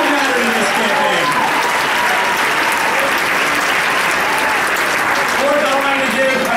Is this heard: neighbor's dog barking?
no